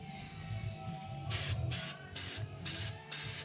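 An aerosol can sprays black paint onto a pickup's exhaust hanger and the insides of the exhaust tips, in five short hissing bursts at a steady rhythm after a quiet, humming start.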